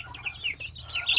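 Chicks and hens clucking close by: a quick run of soft, high clucks and chirps over a faint low background.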